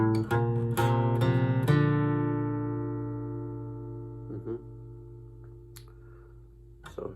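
An acoustic guitar plays the walk-up variation of a song, with a few plucked notes and chords ringing out and slowly decaying, and two short picked notes near the end.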